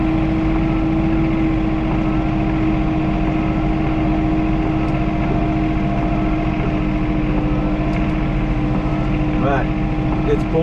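Diesel engine of a John Deere 3046R compact tractor with a grapple, running steadily at close range, a constant low drone throughout with no change in pitch, outdoors in pouring rain.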